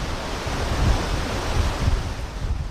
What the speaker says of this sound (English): Turbulent water surges in a river in Vienna.